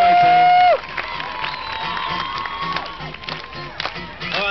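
Park crowd cheering and whooping for a lindy hop dance group in Melbourne, a sustained, lively roar of voices and shouts with music tones running underneath throughout.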